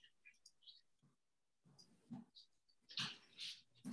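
Several dogs whine and yelp in high, thin bursts, some close and some farther off, with a louder cluster near the end; no one speaks.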